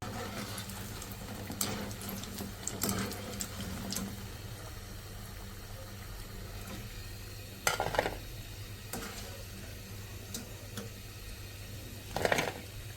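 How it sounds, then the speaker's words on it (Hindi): Ladoo (pethi) batter balls frying in hot oil in a home kitchen: a steady, low sizzle runs throughout, broken by a few short bursts of stirring and utensil clatter. "इसी तरह सारे फ्राई कर लूँगी पहले।"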